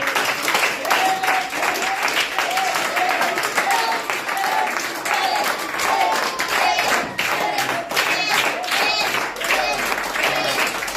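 A church congregation applauds and cheers during a healing testimony service, loud, dense clapping continuing throughout with voices calling out over it.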